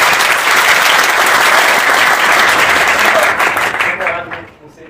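Dense, loud audience applause at a capoeira gathering, with voices mixed in, holding steady for several seconds before fading away at the end.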